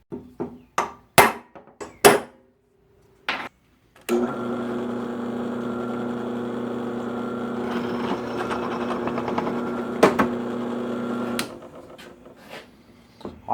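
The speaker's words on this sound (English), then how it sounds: "Fixing to start drilling the holes in this piece of angle iron." A few sharp metallic clanks give way to a drill's steady grinding whine boring holes in steel angle iron for several seconds, then it winds down and stops.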